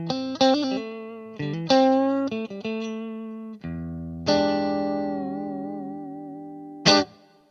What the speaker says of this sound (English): Let's start with a fairly clean sound in the Fender Tweed combo